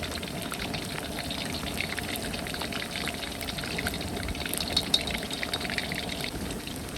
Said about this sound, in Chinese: 哦，又下雨了，